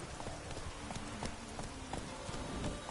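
Horse hooves galloping in The Witcher video game, a quick, rhythmic clip-clop of repeated hoof strikes at moderate volume, steady throughout with no talking.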